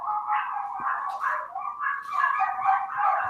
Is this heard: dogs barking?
yes